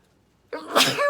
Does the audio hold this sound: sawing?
no